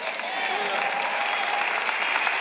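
Congregation clapping at a church service, a dense, steady wash of many hands applauding throughout at an even level, with no clear voices standing out.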